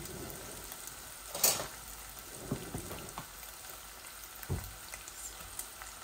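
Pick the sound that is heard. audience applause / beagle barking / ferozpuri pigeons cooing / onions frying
onions frying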